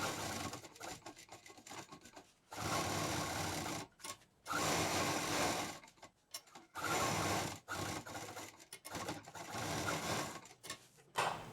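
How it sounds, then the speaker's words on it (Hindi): A sewing machine stitches along a zip on a patchwork bag, running in several steady bursts of a few seconds each with short pauses and handling between runs. "जहाँ पर जिप है वहाँ पर मशीन बहुत आराम से और धीरे धीरे चलानी है।"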